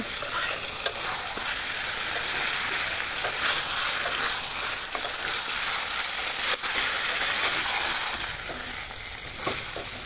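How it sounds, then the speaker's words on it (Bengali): Layer chicken sizzles steadily in a hot pan for bhuna, a constant crackling hiss broken by occasional sharp stirring scrapes; no voices. "এখন মাংসটাকে এখানে ভাজা ভাজা করে নেব।"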